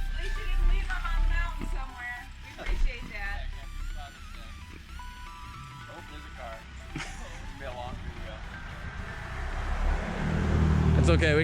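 A car heads home from a mountain hike in the Adirondack High Peaks, its interior road rumble steady beneath ongoing conversation and swelling louder toward the end.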